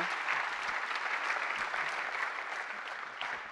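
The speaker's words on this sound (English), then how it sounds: "can we please give um, our keynote speaker, Quiara Alegria Hudes, a round of applause" Sustained applause from a convocation audience for the keynote speaker, a dense, steady wash of many hands clapping at moderate loudness throughout, tapering slightly near the end.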